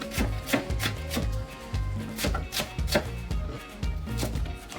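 Onion and scallion being chopped on a cutting board with the heel of a knife: a quick, steady run of close, crisp knife strikes, loud and alone with no talk.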